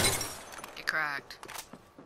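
A shield cracking in a shooter video game, a sharp shattering burst followed by a brief ringing, glassy tone, with someone talking over it.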